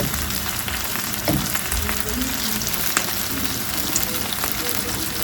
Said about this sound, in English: I'm going to start cooking my noodles